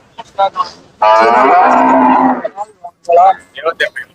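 A cow at a Friday cattle market in Seenapuram, where Jersey and Sindhi cross dairy cattle are sold, lets out one long, loud, close moo, with short murmurs and voices before and after.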